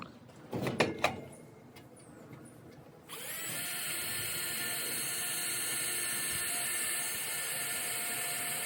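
After a couple of knocks and clatters, a power drill starts up and runs with a continuous high whine, fairly close and steady.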